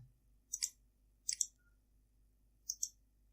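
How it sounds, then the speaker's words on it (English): A computer mouse is double-clicked three times, each a crisp pair of close clicks, over near silence. "Just double click on it."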